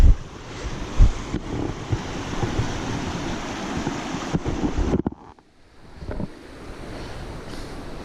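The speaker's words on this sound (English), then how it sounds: "And there is the river." A river flows near Lake Wenatchee after steady rain, its broad rushing wash loud and close, buffeted by wind noise on the microphone before briefly dropping away and returning more softly.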